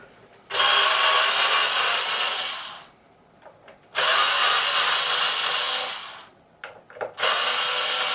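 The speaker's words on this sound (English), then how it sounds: "let's remove these neck screws" Neck screws being driven out of a Yamaha BB614 active bass with a power drill or driver: three long, loud whirring bursts separated by short pauses with small handling clicks, no voices.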